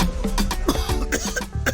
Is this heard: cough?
yes